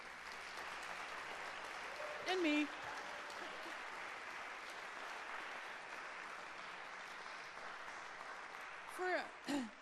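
Applause from a jazz concert audience rolls on as a soft, steady wash of clapping. Someone speaks briefly over it twice.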